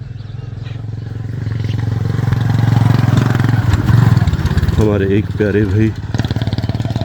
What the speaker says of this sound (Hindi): मोटरसाइकिल रिक्शा लेके जा रहे हैं।